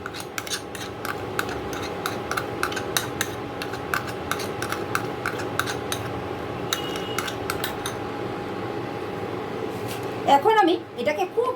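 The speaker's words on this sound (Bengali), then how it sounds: "ঠিক একভাবে একদিকে কিন্তু এইভাবে ঘুরিয়ে ঘুরিয়ে এটাকে মিশাতে হবে" Cake batter with baking powder and baking soda stirred round in one direction in a bowl, a steady scraping clink of utensil against bowl repeating throughout under a constant background hum, with a voice briefly at the end.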